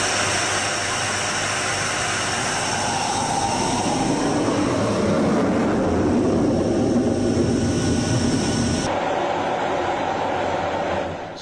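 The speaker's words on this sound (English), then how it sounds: "actually inside a tornado, taking off from RAF Marham" A Panavia Tornado jet takes off from RAF Marham, heard as a loud, steady broadband engine roar from close by that swells and then drops off abruptly near the end.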